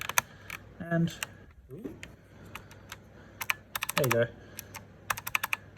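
Plastic 3D-printed resin keycaps being pressed onto a computer keyboard, giving a few close clicks and snaps followed by bursts of rapid typing, with a person talking briefly in between.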